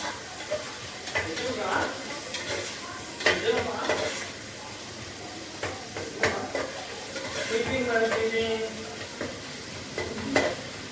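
Ingredients fry in a pan for a spice mix, with a steady soft sizzle broken by repeated scraping and stirring clinks of a utensil against the pan, fairly close and moderate in level.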